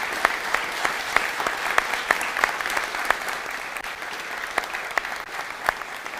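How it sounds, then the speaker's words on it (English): Audience at a computer graphics conference panel applauding the finalists, a steady bed of clapping punctuated by sharper individual claps that stand out near and loud throughout. "let's give a huge applause for these wonderful finalists"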